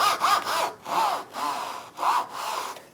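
Hand saw cutting Queensland maple timber: close, rhythmic rasping strokes, about six push and pull passes in three seconds with brief pauses between them and no voices.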